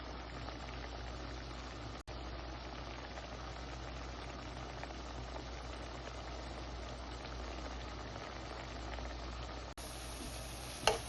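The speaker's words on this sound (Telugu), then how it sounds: "వేసి ఇంకా కొద్దిగా బాయిల్ చేయనిద్దాము." Shrimp curry with coriander and cumin powder simmers in a pan, a faint, steady bubbling hiss that holds evenly throughout with a couple of brief clicks.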